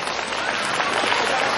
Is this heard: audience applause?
yes